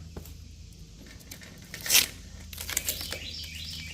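Masking tape is torn off the roll and pressed down while masking a 1968 Oldsmobile 442 for paint. One sharp, close rip lands midway, followed by light crinkling as the tape goes on.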